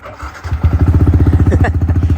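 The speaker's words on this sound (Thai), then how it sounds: "มาสตาร์ทฟังเสียงเครื่องยนต์กันหน่อยนะครับ" A 2019 Yamaha YZF-R15 sport motorcycle with about 6,900 km fires up, cranking briefly before catching into a loud, close, rhythmic single-cylinder idle that thumps steadily to the end.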